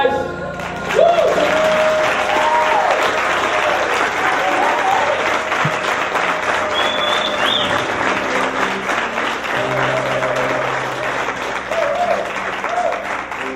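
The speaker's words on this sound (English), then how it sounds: "Another round of applause for John Bartos." Loud, steady applause from the audience after a keynote address by John Bartos, dense clapping mixed with scattered cheers and whoops, and faint voices underneath throughout.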